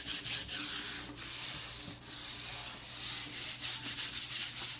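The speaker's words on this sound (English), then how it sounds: "I wanna sand out any loose paint" Steady, close scratchy sanding of loose chalk paint off wood, with continuous abrasive rubbing broken by a few brief pauses between strokes.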